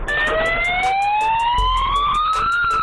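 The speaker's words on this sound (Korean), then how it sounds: "사이렌 소리가 꽤 크네요." A small siren fitted to a forklift wails loud and close, its rising tone sweeping steadily upward and pulsing in rapid repeated bursts throughout.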